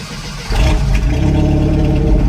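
Comanche pickup truck engine catching and starting in a driveway, a sudden loud rumble that settles into a steady, rough idle close by.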